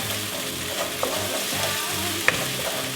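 Prahok ktiss, a traditional Cambodian dipping sauce, sizzles steadily in oil in a pan while being stirred, with a couple of light utensil clinks over the close, even frying noise.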